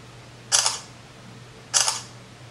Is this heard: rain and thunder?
no